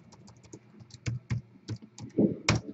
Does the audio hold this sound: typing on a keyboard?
yes